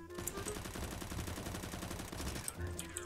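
Rapid automatic rifle fire in a CS:GO match, a sustained burst of shots lasting most of the moment with a few separate cracks near the end, loud and close, with teammates chatting faintly over it.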